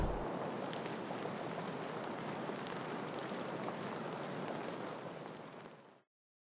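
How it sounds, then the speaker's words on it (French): Heavy rain pours steadily in The Sims 3 video game, a dense even hiss that stays constant for several seconds and then cuts off abruptly. "En plus, il pleut à torrent."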